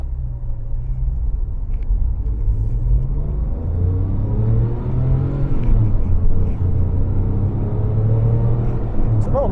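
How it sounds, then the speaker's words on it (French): A Porsche 911 Turbo engine accelerates as a muted, low rumble whose pitch climbs steadily, heard subdued rather than roaring, with no talk over it. "on entend quand même pas trop bien le moteur"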